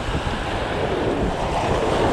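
Wind blows steadily across a California surf fishing beach, a loud continuous rush of gusts and microphone buffeting mixed with the wash of breaking waves, with no voices.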